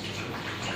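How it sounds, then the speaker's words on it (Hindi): Water poured into a breakfast mixture in a home kitchen, a steady, close splashing stream that runs without a break and stays fairly loud for the whole short moment. "अब आपने थोड़ा सा पानी आपने इसमें डालना है"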